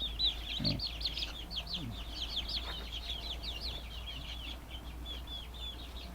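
Free-range village chickens raised at home cluck and chirp continuously, with many overlapping high calls from a flock nearby, a low grunt-like sound early on, and steady background hum.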